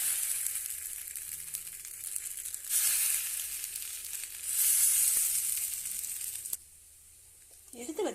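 Steady crackling sizzle of plantain slices frying on a hot oiled griddle, swelling louder in two bursts, then dropping to a quieter hiss near the end.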